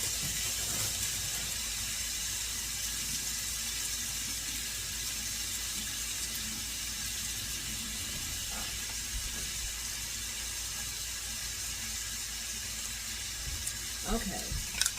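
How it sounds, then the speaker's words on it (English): A kitchen tap runs steadily while hands are washed during meal prep, giving a continuous hiss of flowing water with a few faint splashes and clinks toward the end. "So wash up my little hands here."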